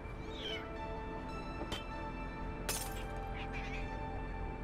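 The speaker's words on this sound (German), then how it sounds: "die Katzen haben noch was runtergeschmissen" Cats knocking something down in a room, with a couple of sharp clattering thumps and scattered meows over a steady background of video game music.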